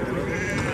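Sheep bleating at a sheep and goat market in Cachoeirinha, Pernambuco, one short bleat amid a busy crowd murmur and nearby voices.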